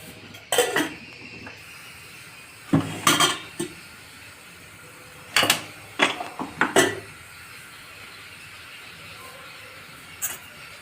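A pressure cooker and metal utensils are set down and handled on a kitchen counter before tempering, with several separate bursts of clanks and clinks between quiet pauses.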